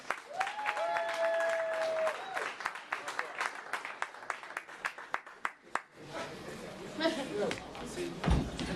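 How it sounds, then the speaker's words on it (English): Crowd applause and cheering at a Black LGBTQ and allies celebration of Illinois marriage equality, with a dense wash of clapping and voices, a whistle-like tone early on, then a rougher, louder stretch of clapping and chatter toward the end. "Give yourselves a round of applause."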